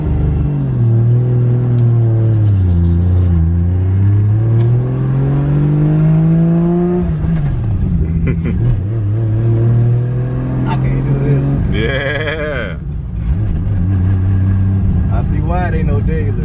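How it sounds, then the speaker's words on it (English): A 700+ hp JZ-swapped Lexus SC400 engine revs up and down loudly and close by, its droning pitch rising and falling under continuous talk. "Rev it as much as you need to."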